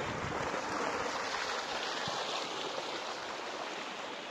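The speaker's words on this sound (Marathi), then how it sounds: "जोरात पाटाने पाणी पळते अगदी" Irrigation water rushes fast along a farm channel in a village field, a steady broadband gurgling wash that stays fairly constant and close throughout, with no talking.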